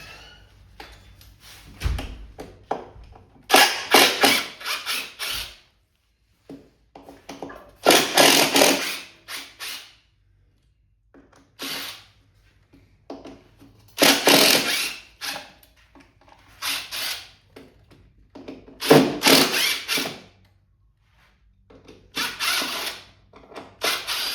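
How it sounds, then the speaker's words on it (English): Screws being undone from the underside of a CMAX battery bank, heard as repeated bursts of ratcheting, clicking tool action separated by pauses, close and fairly loud. "And then undo the screws from the underside."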